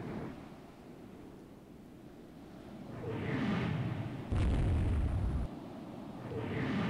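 A torpedo strikes a battleship during a naval battle in the video game Rule the Waves 2. It is a loud, low booming burst lasting about a second, set amid rumbling wind-like battle ambience.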